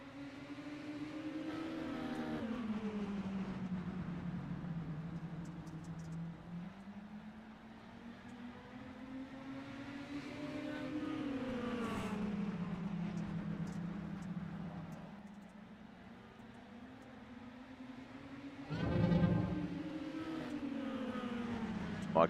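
Engines of dirt mini stock race cars in iRacing drone and rise and fall steadily as they work around the track, with one louder surge near the end.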